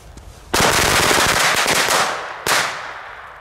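Firecrackers go off in a rapid, loud crackling burst lasting about two seconds, then a second, shorter burst of close crackling bangs follows.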